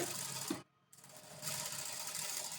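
A sewing machine stitches fabric in a slit stitching technique, running in fast mechanical bursts up close, cut off by a brief pause and then whirring on steadily, with no voices.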